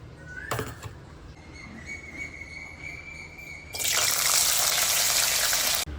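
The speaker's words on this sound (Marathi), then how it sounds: "तर आता हे तेल गरम होत आहे यामध्ये, आणि आता मी टाकणार आहे यामध्ये हा राजमा" Kidney beans (rajma) tipped into hot oil in a kadai set off a loud, broad frying sizzle in the second half, following quieter kitchen noise with a brief clatter and a faint whistle-like tone earlier.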